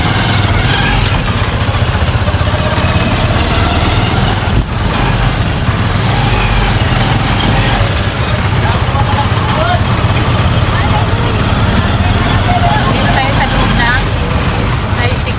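A motorized tricycle in Catbalogan, Samar idles and rides along with a steady, close engine rumble that runs the whole time, while people talk over it.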